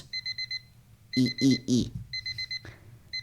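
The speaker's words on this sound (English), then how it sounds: "I quickly flacked the snooze button to cease my alarm clock's horrid noises." Alarm clock ringing with rapid, bright electronic beeps in short bursts, cut by a few loud blaring tones in the middle, then resuming its quick beeping pattern; a brief voice is heard.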